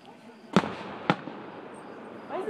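Outdoor fireworks show: two sharp booms about half a second apart, then a quieter crackle, with people nearby talking over a low background.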